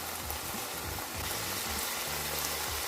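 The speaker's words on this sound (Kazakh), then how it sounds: "Еттің суы кішкене тартылғаннан кейін оған сарымсақ қосып, араластырып, тағы 1 минуттай қуырамыз." Chicken pieces with added garlic fry in a pan for a salad, a steady close sizzle and crackle running throughout with faint stirring, no voices.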